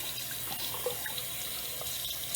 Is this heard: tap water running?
yes